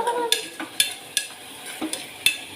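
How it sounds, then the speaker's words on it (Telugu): Tomatoes being fried in a pan for rajma curry, with a soft sizzle under repeated sharp clinks and scrapes as a spoon stirs against the pan, several strokes at an irregular pace. "టమాటా బాగా వేగాలి ఎర్రగా"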